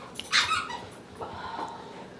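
A Rottweiler puppy gives a short, high whimper and then a softer drawn-out whine, close and fairly quiet, with nothing else around it.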